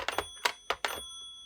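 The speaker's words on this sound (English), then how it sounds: "A lot of the older phones with the old type bells in them have the little tinkle when you hang the phone up." Brief bright bell tinkles from a 1983 BT Contempra rotary telephone in orange with old-style bells, a few quick metallic chimes close by and fairly quiet, ending in a faint ringing tail.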